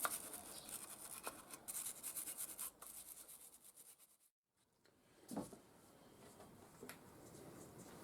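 A brush scrubs dirt off a Triumph Spitfire carburetor during a rebuild, with steady quiet bristle rubbing strokes, a short pause, then more scrubbing close by.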